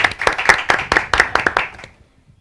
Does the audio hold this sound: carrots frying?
no